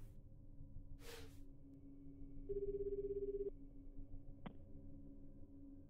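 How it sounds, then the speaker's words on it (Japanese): A phone rings in the video game 428, set in Shibuya, as Jack calls Archie, a single soft electronic ring tone sounding about a second over a quiet background, followed by a short blip. "ジャックはアーチに電話をかけた。"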